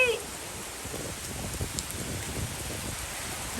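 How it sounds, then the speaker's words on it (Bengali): Morning rain falls steadily in a continuous soft patter on surfaces, moderately close, with no voices heard. "এই যে সকাল সকাল অনেক বৃষ্টি পড়ে, বৃষ্টি নামে"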